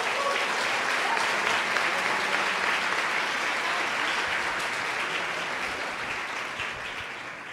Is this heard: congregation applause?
yes